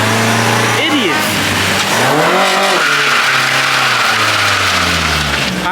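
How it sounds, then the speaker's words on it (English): A 39,000-mile Honda Civic EG hatchback does a burnout, its engine revving hard in rising sweeps under a continuous harsh tire-squeal roar, loud and close, with people talking over it. "This is a burnout though."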